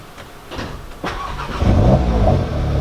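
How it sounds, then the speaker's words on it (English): A car engine cranks briefly and catches, then settles into a steady, close running idle with a slight crackle, loud and alone with no talking. "you get a nice little crackle of the engine there"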